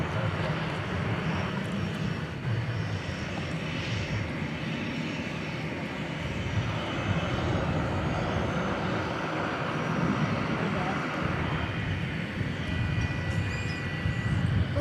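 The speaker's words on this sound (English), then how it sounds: "American Flight 1459 off to Las Vegas, Airbus A321" An American Airlines Airbus A321 departs DFW Airport at night, its jet engines a loud continuous roar that swells and shifts over the stretch, with talk faint beneath it.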